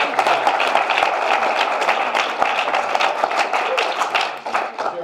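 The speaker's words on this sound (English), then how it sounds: "give him a round of applause real quick" An audience at a business presentation applauds, a dense, steady wash of many hands clapping that holds at an even loudness for the full stretch, with no pauses.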